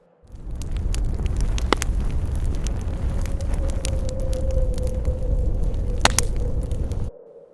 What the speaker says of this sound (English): Only the sound of the crackling bonfire remained.